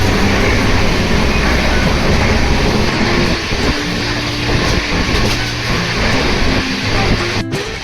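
Simhapuri SF Express train running at night, a loud, steady rumble and roar of the carriages with low rail hum and occasional clunks from the wheels, heard continuously from inside the coach.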